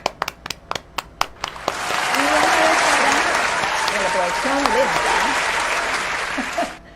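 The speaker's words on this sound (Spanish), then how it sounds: "Un fuerte aplauso para él." Studio guests and crew give a notary a warm round of applause in a radio-TV broadcast booth, starting with a few separate claps before swelling into steady clapping for several seconds, while a host talks over it.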